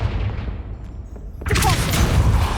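A Confringo fire spell bursts in Hogwarts Legacy, a sudden broad blast about halfway through that rolls on into a loud, rumbling roar, after a quieter stretch of low ambient noise.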